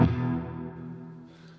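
Electric guitar chord through a CKK Infinite reverb pedal set to maximum pre-delay, ringing from the start and decaying slowly into a long wash with a faint bright shimmer late in the tail.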